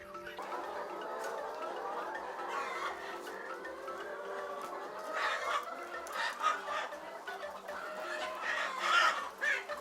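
Many farm chickens cluck steadily together with a rooster crowing now and then, a busy poultry house chorus with no talking.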